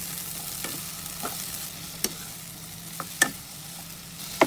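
Sliced capsicum sautés in a pan over a medium flame: a soft, steady sizzle close by, broken every second or so by sharp scraping clicks of a spatula against the pan.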